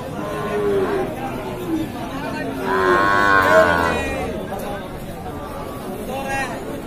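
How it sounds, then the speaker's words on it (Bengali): Bullocks low loudly at the Ambari cattle market in Dinajpur district, one long moo rising over the crowd's constant chatter and bustle as animals are bought and sold. "দিনাজপুর জেলার আমবাড়ি হাটে আজকে যে বলদ গরুগুলো ক্রয় বিক্রয় করা হচ্ছে"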